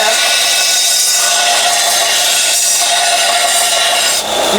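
A file is drawn over small stainless steel pieces to take off burrs, making a loud, close, continuous harsh rasping scrape that stays steady throughout.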